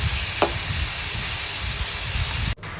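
Chopped onion, green chili, ginger and garlic sautéing in a pan for a beef roast dish, with a steady broadband sizzle, one brief scrape early on, and an abrupt cut near the end.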